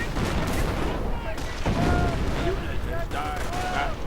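Gunfire and mortar rounds rumble in a real-time strategy game battle, a dense continuous barrage of shots and muffled blasts with whistling tones, while a commentator talks over it.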